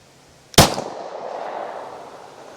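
A single sharp, loud gunshot from a Glock 22 pistol with an extended barrel, firing a 180-grain .40 S&W round into ballistic gel, followed by a long decaying outdoor echo.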